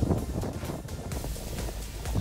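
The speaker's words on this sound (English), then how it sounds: "It's very windy, very cold." Gusty, very cold wind at an outdoor disc golf event buffets the microphone in uneven low rumbling bursts, fairly loud and steady throughout, with no one talking.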